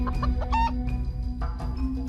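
A rooster clucks in short, choppy bursts close by, with a steady low hum running underneath.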